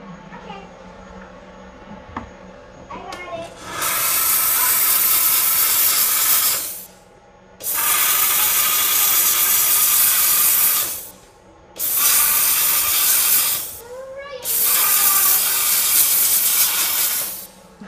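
A dental steam cleaner blasting an orthodontic expander in four loud, close bursts of harsh hissing steam separated by short pauses, with quiet room sound before the first burst.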